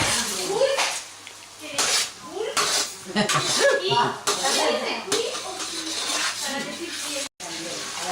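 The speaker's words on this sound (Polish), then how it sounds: "I dalej smażymy na małym ogniu." Onion, parsley and garlic frying over low heat in a pan for Spanish fideuà, with utensils scraping and clinking against the pan under near, continuous talk.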